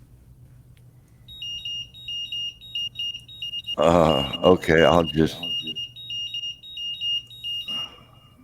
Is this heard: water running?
no